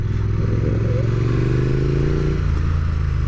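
A Triumph Bonneville Speed Twin 900 twin-cylinder motorcycle engine runs steadily at close range, a deep rumbling idle with a brief rise in revs partway through before settling back down, with no voices.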